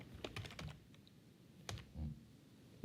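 Keys tapped on a computer keyboard while code is written, a few quick clusters of clicks with pauses between them, quiet and close.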